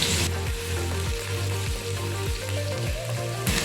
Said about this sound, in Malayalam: ഇതിലേക്ക് ആദ്യം ഇഞ്ചി വെളുത്തുള്ളി അരിഞ്ഞ് ചേർത്ത് കൊടുക്കാം